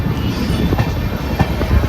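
KSR Bengaluru–Ernakulam Intercity moving off from a station in light rain, with a loud continuous rumble and faint wheel clatter, a few louder knocks rising out of it.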